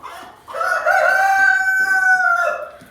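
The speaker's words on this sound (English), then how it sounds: "the beautiful buff-colored chickens are called Buff Orpingtons" A Buff Orpington rooster in a barn lets out one long, loud crow close by, a sustained cock-a-doodle-doo lasting over two seconds after a brief cluck.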